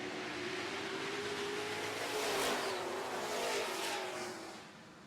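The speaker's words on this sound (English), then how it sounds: "Green flag is out, and we are racing Super Trucks." Super Trucks race around a speedway just after the green flag, their engines roaring and swelling as the pack passes, then fading into a steady distant drone.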